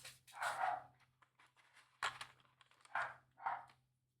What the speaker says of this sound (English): Don't know if you could hear it, but Oliver was out there barking at actually my wife outside